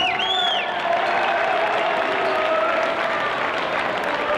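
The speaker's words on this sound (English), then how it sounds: "we'd like to give Coach Barnes a round of applause" A crowd in the Olympus High gym applauds Coach Barnes before a boys basketball game against Brighton, sustained dense clapping filling the hall, with a squeaky whistle-like tone near the start.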